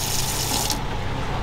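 Tap water runs steadily into a sink aboard a rented catamaran yacht in Montenegro, a loud close gushing splash that holds evenly throughout the short moment.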